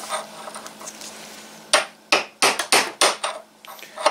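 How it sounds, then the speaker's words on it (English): Hammer strikes on a chisel against a seized tractor PTO shaft ring out loud and close, about eight sharp metallic taps in an uneven rhythm, each followed by a brief ring, after a stretch of quieter background noise. "I'm going to try the chisel method again. Give it a little bit of a tap, see what happens."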